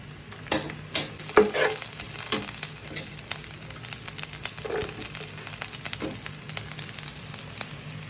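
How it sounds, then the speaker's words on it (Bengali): Chopped onion and ginger paste fry in hot oil for a home-style prawn curry, giving a low, steady sizzle broken by a few sharp clinks and scrapes of stirring near the start. "তেল গরম হয়ে এলে আমি এতে পেঁয়াজ কুচি দিয়ে দিব। পেঁয়াজ কুচি দিয়ে দিচ্ছি। দিয়ে দিচ্ছি আমি আদা বাটা"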